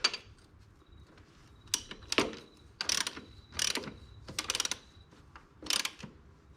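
A ratchet fitted with a 14mm socket turns a nut, giving several short bursts of rapid metallic clicking between quiet gaps, close and fairly faint.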